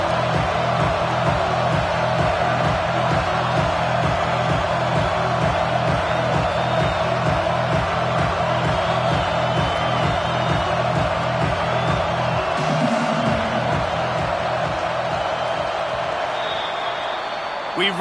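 Steady stadium crowd roar at a Alabama versus Michigan college football game as a kicker lines up, loud and continuous throughout with a rhythmic chant-like pulse and voices mixed in.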